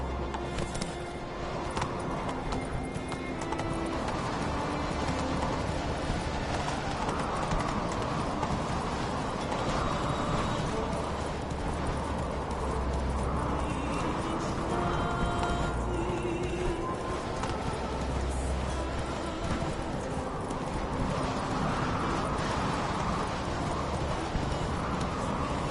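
Hooves of Roach, a horse in a video game, clip-clop steadily across the whole stretch with occasional whinnies, over a constant low rumble of game ambience.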